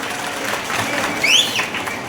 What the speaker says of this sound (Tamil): எல்லாத்தையும் ஒரு கைத்தட்டல் கொடுக்கலாம்.